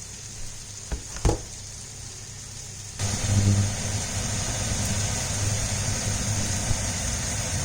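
Mushrooms stir-fry in a pan, a few sharp knocks of a utensil giving way to a loud, continuous sizzle with a low rumbling undertone that carries on steadily to the end.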